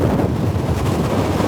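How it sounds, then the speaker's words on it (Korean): Strong wind at sea buffets a boat on rough water, a loud, steady roaring rush with heavy low rumble from gusts hitting the microphone, no voices over it. "어우, 바람 장난 아니야 지금."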